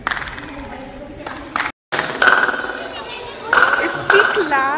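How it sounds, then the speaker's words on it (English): Sharp hand claps ring out inside the stone walls of Golconda Fort, each followed by a fluttering, metallic echo that rises overhead; several claps come singly and in quick pairs, with a short silent gap midway. "If we clap in this position, we get an echo above."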